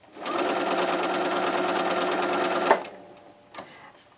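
A sewing machine stitches a raw edges quilt in one steady, rapid run lasting a few seconds, then stops with a clunk, followed by a short mechanical click.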